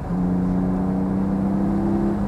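A car engine holds a steady drone with a low tonal hum as it drives through a second-gear corner, loud and continuous without speech.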